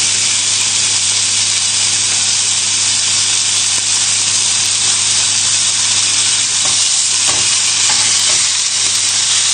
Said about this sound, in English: move it around the pan just to get some of the oil and the heat from the pan